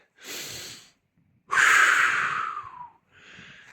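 Heavy, deliberate breathing from a hiker climbing Ben Nevis alone in a winter blizzard: three close, harsh breaths, a short inhale, a long forceful exhale and a softer final breath, with pauses between.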